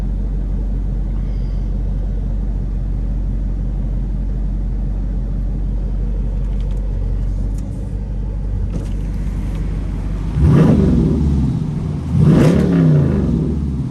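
A Dodge Durango SRT with straight pipes idles with a deep, loud, rumbling burble, then two sharp revs blast out near the end, heard from inside the vehicle.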